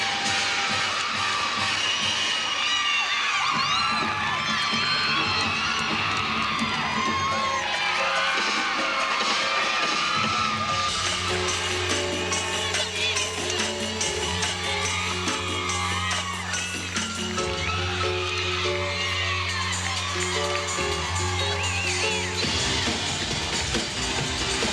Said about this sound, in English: nothing beats the excitement of a home crowd